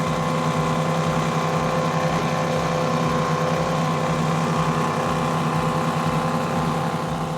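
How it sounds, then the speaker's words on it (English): Twin Mercury Racing 525 engines on a powerboat at the Key West Poker Run roar close and loud in a steady, unbroken drone with a throbbing pulse, with no other sound. "Let's listen to these Mercury Racing 525s"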